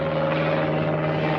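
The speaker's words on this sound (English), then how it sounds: "there goes a bloody plane over it then" A plane droning overhead above a small fishing boat on the Solent near Southampton, a steady engine hum holding two sustained tones, moderately loud and constant.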